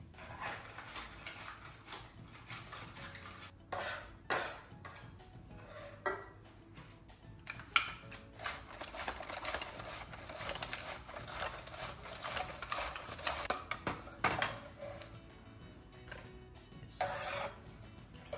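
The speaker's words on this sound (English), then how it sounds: "make sure those cabbages are nicely chopped, and I'm going to actually use a mandolin for it." Cabbage being sliced on a mandoline for coleslaw, a run of quick rasping strokes and clacks from the blade, near and moderately loud, with short pauses between passes and no talk.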